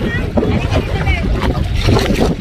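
A boat motors across open water toward a sandbar near a white sand beach, with rushing water and wind buffeting the microphone under a nearby voice.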